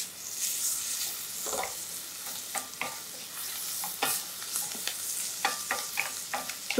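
Ingredients frying in a pan over high heat, a hissing sizzle punctuated by frequent scraping stirs and clinks of a utensil against the pan, close and fairly quiet, with no talking.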